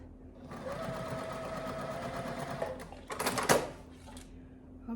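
Quilt pieces for a Tilda quilt feed through a sewing machine, a close, steady stitching whir for a few seconds, followed by some brief clattering knocks as the fabric is handled.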